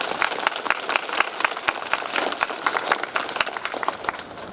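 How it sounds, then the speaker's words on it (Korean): Moderate applause from candidates and spectators at a student council election joint campaign rally, a lively scatter of individual claps forming a steady patter, somewhat distant and unaccompanied by talk. "다 같이 큰 박수 한번 부탁드리겠습니다"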